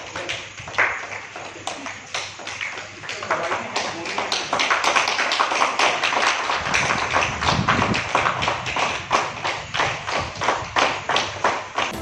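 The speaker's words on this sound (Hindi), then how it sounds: "मरीजों का तालियां बजाकर स्वागत किया गया।" Medical college staff clap to welcome recovered COVID patients, rhythmic, fairly close hand claps repeating steadily and sometimes mixed with thuds.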